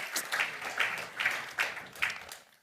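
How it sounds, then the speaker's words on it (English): A crowd at a high-level international climate adaptation event applauds Macky Sall, former president of Senegal, with a loose, pulsing round of clapping that swells in waves and fades out. "please join me with a big applause for His Excellency Macky Sall, the former president of Senegal."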